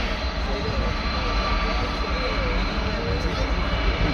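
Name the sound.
Airbus jet aircraft engines at Paris Orly airport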